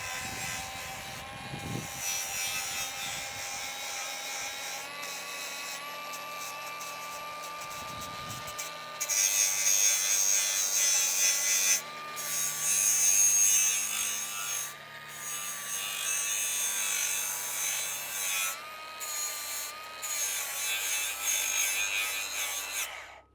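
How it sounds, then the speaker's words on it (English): A Milwaukee M18 grinder fitted with a flap wheel grinds a part of a Tahoe T16 boat trailer, giving a high, sustained whine that swells into louder grinding passages with brief pauses between them. "So I forgot that I had an M18 grinder here with a flap wheel on it. So we're gonna try that now."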